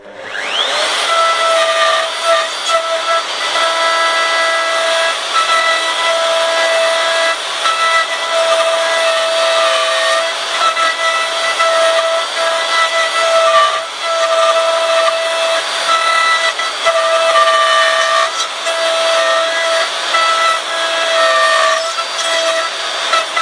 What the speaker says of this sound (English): So time to get going with the router.